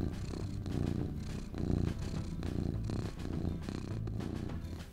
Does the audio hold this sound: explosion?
no